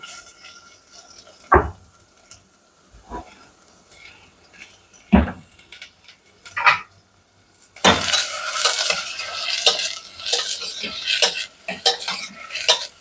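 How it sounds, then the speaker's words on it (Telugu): Onions fry in a pan while being browned, with sparse metal clinks and scrapes of a utensil against the pan at first, then a louder, continuous sizzle with stirring clatter filling the second half. "ఈ ఉల్లిపాయలు బాగా బ్రౌన్ కలర్ వచ్చేటట్టు వేపుకున్నాం మనం"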